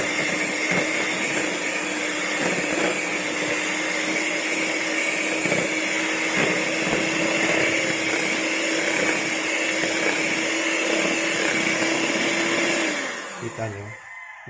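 An electric mixer beating a homemade ice cream mixture, a loud steady motor whir with a constant hum that runs unbroken for about thirteen seconds, then winds down and stops.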